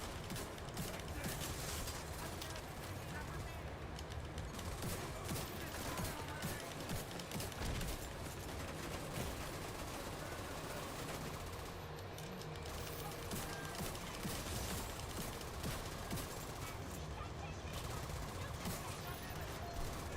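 Minigun fire in The Division 2, a continuous, dense rattle of rapid shots running the whole time with other combat noise mixed in.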